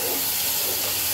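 Water poured into spiced masala frying in a pan for a Bengali hilsa fish and potato curry with nigella seeds, a dense, steady, close sizzle and hiss with no talk.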